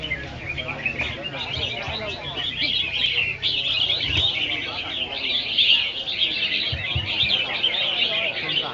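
A flock of red-whiskered bulbuls calls in a dense, continuous chorus of overlapping chirps and whistles, loud and close, with someone speaking faintly beneath the birds.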